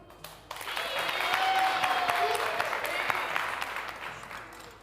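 An audience at a televised variety show applauds for a contestant, with sustained clapping that swells, holds and slowly fades, while a faint voice carries underneath.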